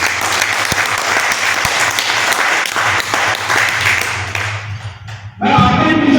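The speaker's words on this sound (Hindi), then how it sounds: "इसके लिए मैं आपसे आग्रह करूंगा एक बार जोरदार तालियों से" Loud, dense applause from a birthday gathering crowd, sustained for several seconds with a steady low hum beneath, easing briefly before a sudden louder burst near the end.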